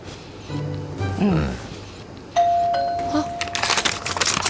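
A doorbell chimes with a clear ringing tone that lingers, following brief talk and followed by rustling and movement.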